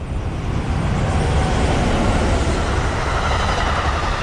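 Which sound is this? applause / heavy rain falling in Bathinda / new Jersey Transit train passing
new Jersey Transit train passing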